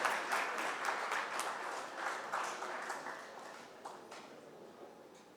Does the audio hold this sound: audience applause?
yes